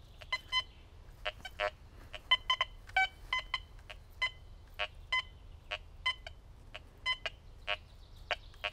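A Quest X10 metal detector, swept over ground in a depth test, gives a long run of short, fairly faint electronic beeps at an irregular, sometimes quick rhythm, with no one speaking.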